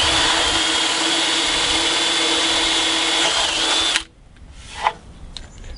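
Power drill boring connector holes in a loudspeaker cabinet, a loud steady whine for about four seconds that cuts off, then quieter handling noises.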